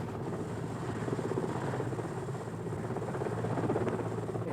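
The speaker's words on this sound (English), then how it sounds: "the helicopter was an improvement over the dog sleds Kenan used." Helicopter in the remote wilds of Kamchatka, a steady throbbing rotor chop over a low engine drone, heard close and continuous from inside the cabin, alone without talk.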